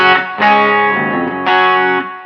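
Electric guitar played through a Quilter SuperBlock UK amp with the cab simulator on bright, sounding thin with reduced lows and lifted highs; distorted chords ring out in three sustained strums, loud and close, with no talking.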